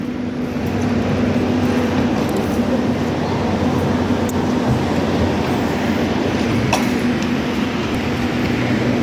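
A train rolls past steadily and close, a continuous low rumble with a constant hum running through it, loud and unbroken for about nine seconds with no voices.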